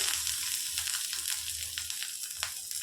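Ginger and spices fry in a pan for capsicum masala gravy, giving a steady crackling sizzle with scattered pops and light stirring scrapes, close and fairly quiet.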